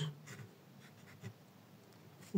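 Handwriting on paper during a math lesson, soft scratchy strokes in short bursts, quiet and close, ending with a louder bump.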